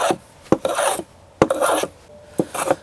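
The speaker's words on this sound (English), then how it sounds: "get a planer, and just peel off some pieces" A hand planer peels shavings off a scrap 2x4 in three quick rasping strokes, each a close, dry scraping rush of wood with a sharp knock at its start, no talking.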